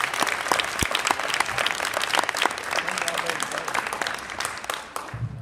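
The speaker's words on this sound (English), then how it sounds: "give yourself a big round of applause" Enthusiastic applause from a large crowd, dense steady clapping that carries on for several seconds before thinning out at the very end.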